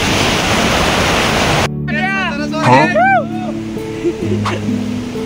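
A loud, rushing roar of falling water at Ozarde waterfall in western Maharashtra fills the first moments, then cuts off abruptly as people talk.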